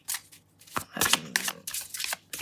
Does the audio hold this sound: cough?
no